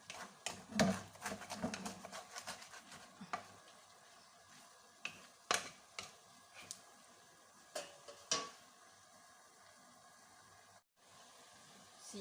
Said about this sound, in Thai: ผัดจนกว่าน้ำจะแห้งนะคะ